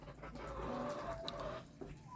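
A rooster and hens cluck on a small farmyard where a rooster is chased into a bucket, a soft fairly quiet stretch of clucking with one drawn-out call, no voices.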